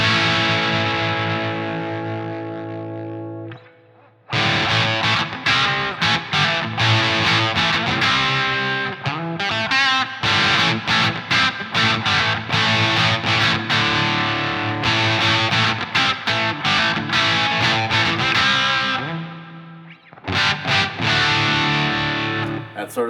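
An electric guitar plays through a Fender Twin Reverb amp model set just past the edge of breakup, giving loud, lightly crunchy strummed chords in steady bursts with short pauses and a sustained opening chord.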